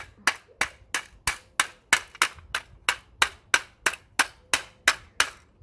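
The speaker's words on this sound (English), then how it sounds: "Mr. Hammer, yes, smash this Asda truck." A hammer smashes a toy Asda truck in a steady series of about fifteen sharp, close blows, evenly spaced roughly every third of a second, each a crisp plastic crack with no talk between.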